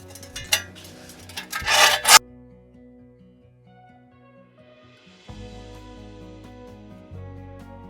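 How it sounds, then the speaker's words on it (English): Mulch being shovelled into wheelbarrows in a home garden, with a burst of loud scraping, rasping shovel strokes that stops abruptly, followed by quieter ambient rumble and faint background sounds. "we're gonna start by loading up mulch into wheelbarrows"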